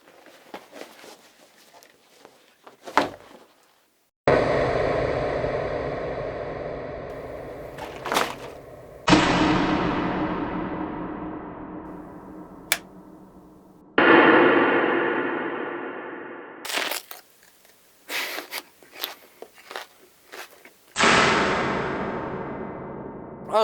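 A bite into a raw onion, slowed down and drenched in heavy reverb, lands as a string of booming crashes, each a sudden deep impact that rings out in a long echoing tail before the next hit.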